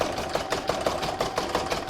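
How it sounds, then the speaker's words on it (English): An embroidery machine stitches a zigzag around the edge of a reversible Christmas placemat in the hoop, producing a steady, rapid mechanical whirring with regular rhythmic pulses, close and fairly loud, with no voices. "I'm now going to pop that back in my machine and I'm going to stitch round number 6, which is going to do the zigzag around the edge."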